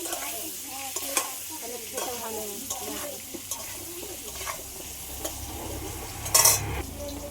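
Potato pieces with turmeric frying in a pan, a low steady sizzle under repeated scraping and tapping of a spoon against the pan, with a brief louder clatter near the end and faint talk in the background.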